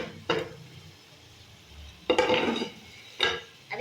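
Chicken being stirred with paste in a cooking pan, heard as three distinct scraping, clinking bursts of a utensil against the pan, separated by quieter gaps, close and without talk.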